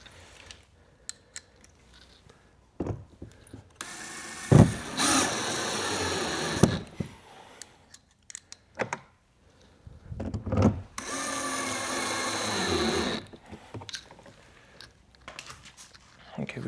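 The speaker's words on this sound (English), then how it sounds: "Now we're going to take our screw, put in all our screws back in." Screws are driven back into a 2025 Toyota Camry door panel with a power driver, two sustained whirring runs of several seconds each between scattered clicks and knocks, close by, with brief talk in the gaps.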